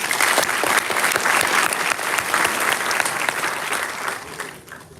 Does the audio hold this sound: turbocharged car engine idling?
no